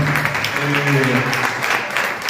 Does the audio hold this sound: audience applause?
yes